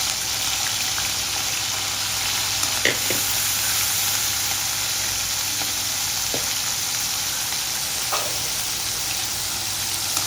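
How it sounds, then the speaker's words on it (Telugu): Boiled dry prawns fry in hot oil with a loud, steady sizzle that runs the whole time, with occasional faint clicks and scrapes from stirring. "ఇప్పుడు వీటిని మనం నూనెలో ఫ్రై చేసుకోవాలి"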